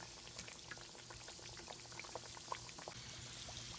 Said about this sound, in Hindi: अब हम इसमें कचौड़ी डालकर सेकेंगे।